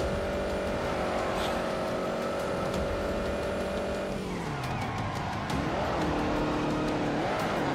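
A car in The Grand Tour Game skids under handbrake. Tires squeal in a drawn-out slide over a loud, steady engine drone with racing game sounds, and the pitch sweeps as the car turns.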